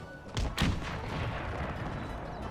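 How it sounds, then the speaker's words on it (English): Musket volleys fired at fleeing dismounted camel gunners in the strategy game Empire 2: two loud bursts close together near the start, then a steady rumbling din of battle. "Continue to fire on the camel gunners as they try to run away."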